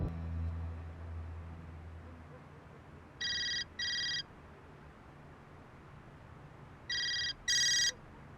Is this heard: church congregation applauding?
no